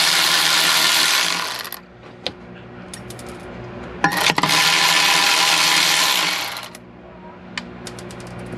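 Ratchet wrench clicking while loosening the six flywheel nuts on a Ford Fiesta/Focus automatic transmission, a steady close mechanical whir with sharp clanks in bursts, no talk.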